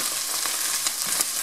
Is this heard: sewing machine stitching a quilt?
no